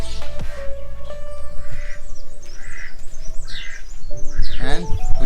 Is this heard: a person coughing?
no